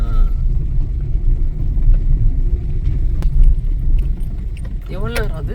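A car crawls at walking pace along a rough forest road at night, a steady low rumble with rattling and jangling throughout and brief voices near the end.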